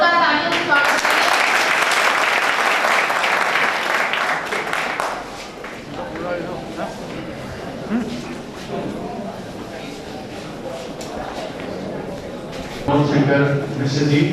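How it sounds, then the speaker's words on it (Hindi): Applause from a seminar audience in a school hall, strong at first and then continuing at a lower, steady level, with a voice speaking over the clapping and a renewed burst near the end. "जोरदार तालियों से स्वागत करें।"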